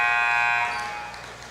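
A single loud, sustained electronic buzzer sounds at halftime of a college basketball game between Alice Lloyd and Kentucky Christian, ringing sharply then fading into arena noise.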